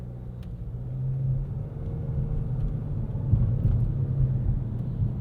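A Nissan Kicks with a 2-liter engine accelerates through city traffic, giving a low, subdued steady rumble of engine and road noise with no voices.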